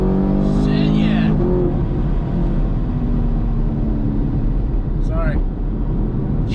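A supercharged 50th anniversary Camaro SS with a Procharger accelerates hard from inside the cabin, a loud, steady engine roar and rumble building under a brief voice.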